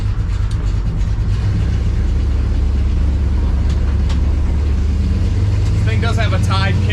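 A 1969 Plymouth Barracuda with a 360 engine cruises along, a steady low engine rumble and road noise close and constant, with a few faint high ticks near the end.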